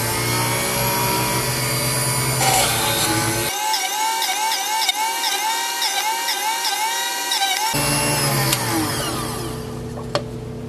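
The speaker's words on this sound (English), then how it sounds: "So let's go do this over on the drill press." A drill press bores holes through a wooden board for a scroll-saw lantern project, its steady motor whine joined by a rising, pulsing cutting tone for several seconds before winding back down, close and alone.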